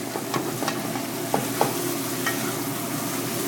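A flat-bottomed spatula scrapes and stirs chicken curry in a pan, giving a few soft scraping strokes over a steady close sizzle, with no talking.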